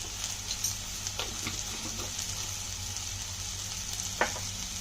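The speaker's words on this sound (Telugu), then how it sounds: "ఈ ప్రాసెస్ అంతా మాత్రం సిమ్లో పెట్టే వేయించాలి" Dried prawns and egg frying on a low flame with chilli powder and salt, a soft even sizzle broken by occasional scraping stirs and a sharper clatter near the end, quiet and close, without speech.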